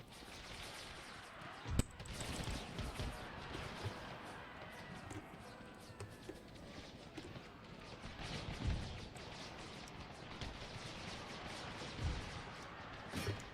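Musket-armed Union troops in an American Civil War battle on the Empire Total War engine fire in scattered volleys. Sharp cracks and pops stand out over a steady, faint battlefield din, with several louder shots spaced through the stretch.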